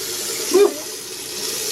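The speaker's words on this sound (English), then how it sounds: "Got running water, that's good." A bathroom faucet in a cruise ship cabin runs with a steady, close hiss of flowing water throughout, and a brief faint vocal sound comes midway.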